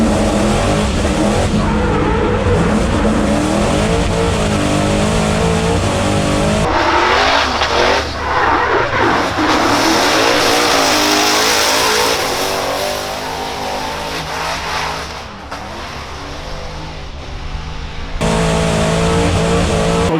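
BMW 30 Touring driven by Jordan Lapelosa drifting at a competition, with a loud continuous engine roar and screeching tires throughout. The intensity dips briefly midway, then surges back at full volume.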